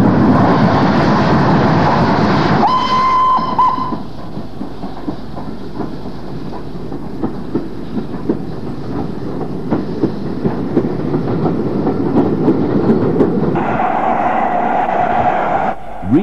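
A British steam train piloted by a BR Standard Class 4 locomotive rumbles past, with a continuous heavy roar of wheels and carriages, a brief whistle-like tone early on, and steady clattering throughout.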